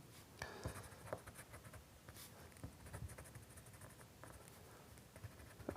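Polychromos coloured pencil pressed firmly on paper for a fried-egg drawing, giving a quiet, steady scratchy scribbling with short irregular strokes throughout, close and faint.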